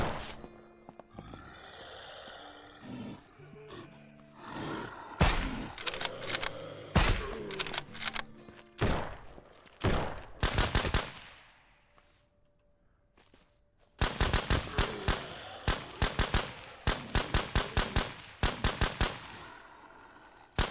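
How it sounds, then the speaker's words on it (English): Video game gunfire in Surroundead on nightmare mode: sharp shots in irregular bursts, a quieter gap midway, then rapid rhythmic volleys that go on to the end, with no talking. "Did you really have to start shooting at those cunts?"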